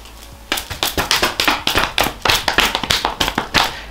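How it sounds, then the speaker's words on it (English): Hands clap in quick, close, loud bursts, a steady run of sharp smacks lasting several seconds in a quiet room. "Why are you clapping like you..."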